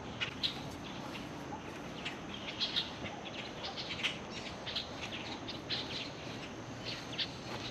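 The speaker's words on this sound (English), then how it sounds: "So many birds in this place." Many birds chirp in short, scattered bursts over a steady outdoor hiss at a beach access in Panama City Beach, Florida, several calls overlapping at moderate distance with no talking.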